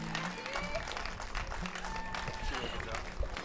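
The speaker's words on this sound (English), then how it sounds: "She gets a great ovation from the home crowd." A home crowd at a softball regional game between Northwest Nazarene and Saint Martin's applauds steadily as a player leaves the game, a broad, continuous wash of clapping and cheering under a commentator's voice.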